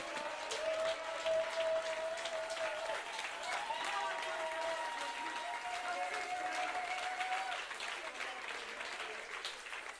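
A church congregation applauds in acclamation to the Lord, a steady, fairly distant clapping that continues throughout while voices call out and a tone sustains underneath.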